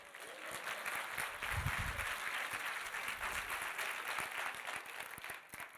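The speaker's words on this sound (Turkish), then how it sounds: "siz neyi alkışlıyorsunuz?" Audience applause fills the room during a Turkish stand-up comedy show, a steady wash of clapping that holds at an even level for several seconds with no voices over it.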